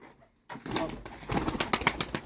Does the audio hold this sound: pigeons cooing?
yes